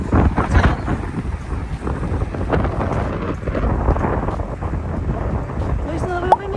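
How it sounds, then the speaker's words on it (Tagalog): Strong wind on a beach along the Corniche in Abu Dhabi buffets the microphone in a constant low, rumbling roar, gusting throughout with no clear voices. "naririnig niyo ba yung hangin? Ang lakas!"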